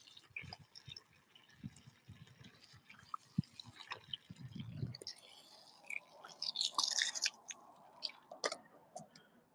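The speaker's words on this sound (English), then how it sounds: "Just water this one real quick" Water poured onto a houseplant under grow lights, soft trickling and scattered drips close by, building into a brighter splashy pour midway before trailing off into light patters.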